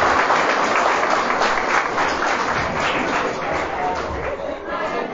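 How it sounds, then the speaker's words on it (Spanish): A crowd at a school event applauds loudly and steadily throughout, a dense wash of clapping with some chatter mixed in. "aplauso fuerte, claro que sí."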